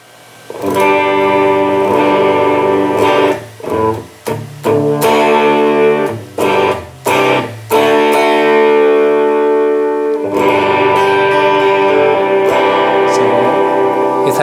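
Electric guitar through a Headrush NAM amp model with a breakup tone plays sustained chords, then several choppy staccato stabs with brief gaps, before returning to ringing chords, loud and up close.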